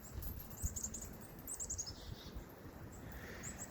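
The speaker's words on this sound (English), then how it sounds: "Hey, the chickadees. Where are you guys? They're up here in the maple." Chickadees calling from up in a maple tree in spring, a few faint high chirps and short call runs at a distance over quiet outdoor background.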